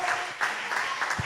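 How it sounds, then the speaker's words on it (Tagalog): A church congregation claps loudly during a Filipino-language evangelical sermon, a dense, steady burst of applause filling the short moment. "Palakpakan natin ang malakas na palakpak."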